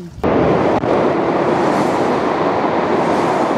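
A high-speed bullet train at about 270 km/h rushes past after a sudden onset, a loud, broad roaring whoosh that holds steady for several seconds without talk.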